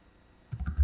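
Typing on a computer keyboard during spreadsheet-style data entry: after a quiet half second, a quick run of several light, close key clicks in a rapid, uneven rhythm.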